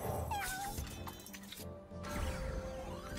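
Cat meows ring out from the card video game Legends of Runeterra, several short, bright, rising cries mixed with clinking game effects and a brief crash, moderately loud over game music.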